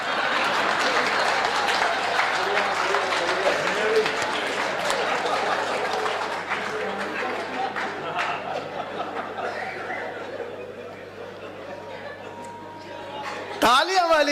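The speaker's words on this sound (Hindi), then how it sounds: "तालियां वालियां जोरदार नहीं बजी भाई।" Sustained audience applause at a Rajasthani stand-up comedy show, dense clapping mixed with chuckles and chatter, gradually thinning toward the end before a voice cuts in.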